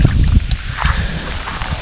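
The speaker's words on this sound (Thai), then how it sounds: "ลมแรงครับ" Strong wind gusts buffet the microphone on an open mountain slope in forest, a rough low rumble that swells and fades continuously.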